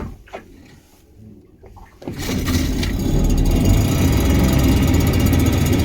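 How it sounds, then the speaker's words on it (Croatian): After a quiet start with faint knocks, a boat motor starts up and runs steadily, a loud low rumbling drone that continues to the end. "Čak ni sam ne dižeš, nego ti motor diže."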